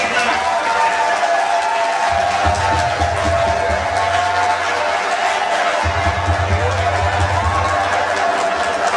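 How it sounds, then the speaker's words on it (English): Audience clapping at an official working visit of an agricultural research council's executive secretary: a steady wash of crowd applause and murmur mixed with loud amplified talking and low rumbling bursts. "So better you clap now."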